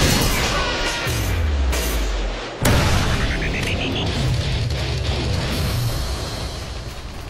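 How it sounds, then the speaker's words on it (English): Predator missile strike in Call of Duty MW3: a low descending rumble, a sharp loud blast near 2.6 seconds, then a rising whistle and a sustained rumbling roar that slowly fades. "Predator missile ready for launch."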